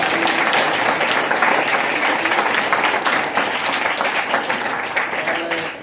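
A dense burst of applause from a theatre audience, steady and loud, sustained clapping filling the whole stretch.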